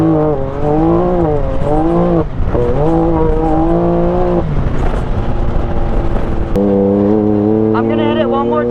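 Can-Am X3 side-by-side engine revving loudly and close as it jumps over whoops and lands, with rising and falling harmonic pitch sweeps and a brief thump near the landing.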